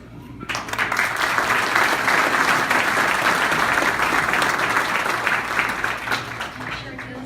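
Loud, sustained applause from an audience at the Marion Area Chamber annual meeting, rising quickly and holding steady for several seconds before easing slightly at the end.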